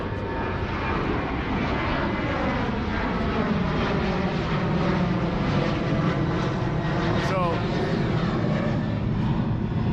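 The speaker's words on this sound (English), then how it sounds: "every couple minutes there's a plane that flies overhead" Near San Diego Airport, an airplane roars low overhead in a loud, steady drone that fills the whole stretch, with faint voices underneath.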